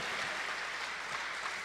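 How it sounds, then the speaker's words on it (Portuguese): Church congregation applauding during a Portuguese-language service, a dense, even wash of clapping from many hands that holds steady and fairly close without pause. "Vamos dar um aplauso ao Senhor Jesus"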